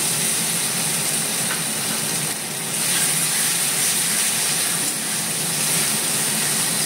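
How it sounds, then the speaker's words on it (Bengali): Tomato, ginger and garlic puree sizzling in hot oil with turmeric for a Bengali egg-stuffed pointed gourd dish, a steady close hiss that dips briefly and then carries on. "এরপরে আমি এই যে এই পিউরিটা দিয়ে দেবো, টমেটো, আদা, রসুন"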